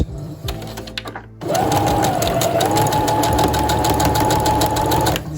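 A sewing machine stitches bodice darts on vintage Barbie doll clothes, running in one steady continuous burst after a brief quiet start, close and loud with no talking.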